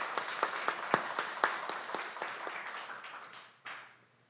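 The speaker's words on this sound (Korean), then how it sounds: "하나님과 아기 예수님께 영광의 박수 올려드리겠습니다" Church congregation applauding at a Christmas service, a burst of clapping with distinct claps at first that blends into a steady patter and fades out, heard at moderate distance with no talk.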